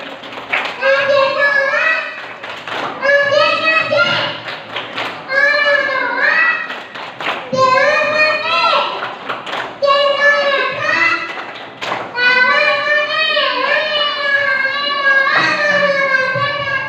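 Group of children performing the tepuk anak soleh clapping chant, with loud sung voices in repeated phrases punctuated by hand claps and thumps, in several bursts separated by short pauses.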